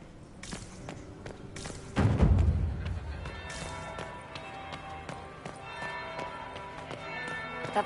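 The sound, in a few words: bell ringing in the video game Dragon Age: Inquisition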